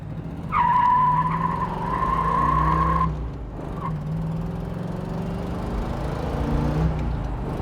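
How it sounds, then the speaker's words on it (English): A 1979 Pontiac Trans Am accelerating hard, tires skidding with a loud squeal for about three seconds over the engine roar, then the engine pulls on steadily, close up. "Let's give the car some gas and see what this puppy's got."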